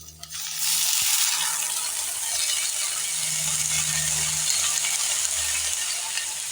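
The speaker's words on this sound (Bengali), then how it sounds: "বাঁধাকপিটা এখন আস্তে আস্তে করে ঘিয়ের মধ্যে ছেড়ে দেব।" Boiled cabbage drops into hot ghee in a pan, a clink and then a loud, close, steady frying hiss that carries on without talk.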